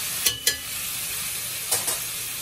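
Boiled chicken being stirred in a pan on the stove, soft steady sizzling with a few sharp scraping strokes of the utensil, close and alone.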